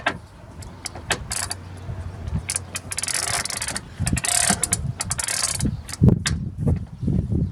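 Metal clicks and ratcheting come from a screw being driven into the frame of a 2005 Ford E-150 van with a 4.6 engine. The sound is an irregular, close burst of clattering taps and scraping mechanism noise with no talk.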